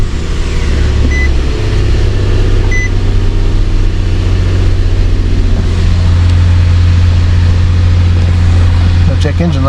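A car engine starts and settles into a steady, loud idle close by, with a low, even hum that continues throughout and a slight rise near the end.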